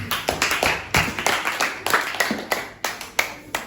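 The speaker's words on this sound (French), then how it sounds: "Applaudissez pour Franck." Children clap their hands together in a classroom, a steady burst of claps with uneven rhythm over several seconds, fairly close and without talking.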